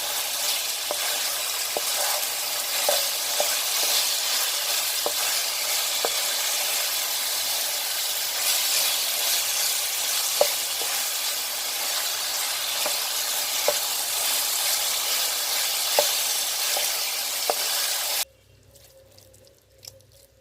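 Chicken sautéing in a pan for a chicken dish with yogurt, a steady close sizzle with light scattered clicks of stirring, cutting off abruptly near the end with no talking.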